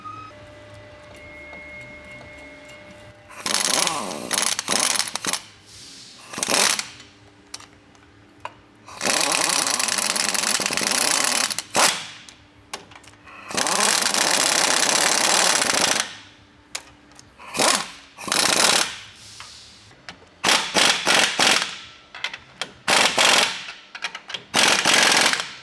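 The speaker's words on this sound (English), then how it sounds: "All right, so we got the U-bolts tightened up." Power tool tightening U-bolt nuts on an ICON rear lift block on a 2016-2023 Toyota Tacoma, heard as about ten loud, close, buzzing bursts of varying length separated by short pauses, with no talking.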